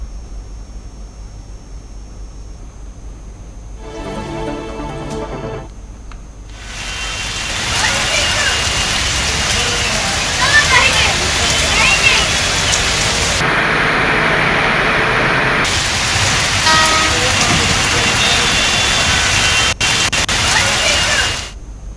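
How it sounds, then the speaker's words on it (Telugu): Heavy rain pours down over Hyderabad during a storm with thunder, lightning and gusty winds, a loud, steady wash of hiss that swells after the first few seconds and holds for a long stretch. "ఉరుములు, మెరుపులు, ఈదురుగాలులతో కూడిన భారీ వర్షం హైదరాబాద్ ను పలకరించింది"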